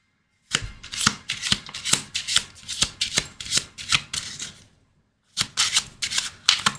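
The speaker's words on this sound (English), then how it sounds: "I'm going to change decks really quickly here." A deck of playing cards is riffle-shuffled up close in two bursts of rapid, crisp flutters, the second after a brief pause, with no talking.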